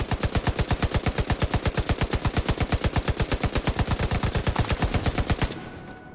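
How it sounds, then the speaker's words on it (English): A light machine gun in The Division 2 fires a long, fast, evenly spaced burst of loud close shots for about five seconds, then stops abruptly and leaves a faint ringing tail. "that would mean shooting the sun with our LMG"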